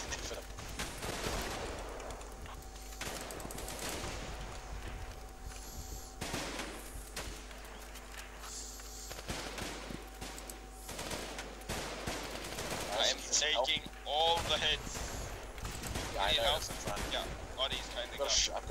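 Enemy bandits fire guns in the video game Running With Rifles, Running with the Dead mod, sharp shots and rapid bursts cracking repeatedly at varying distances, with talk in between.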